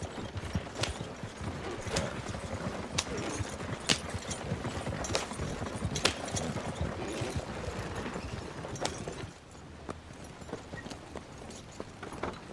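Hooves clip-clop from a horse-drawn wagon in the Western video game Red Dead Online, a steady trotting beat with wheel and harness rattle that drops to a quieter, sparser patter near the end.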